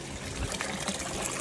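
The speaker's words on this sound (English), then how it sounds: "Finally got the water flowing." Water pouring and trickling into a DIY budget above-ground pond, heard as a close, steady splashing flow throughout the short stretch with no talking.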